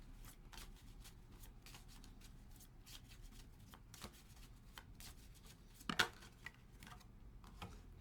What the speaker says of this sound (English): Let's pull a couple of my Crystal Medicine Oracle cards to close out the reading.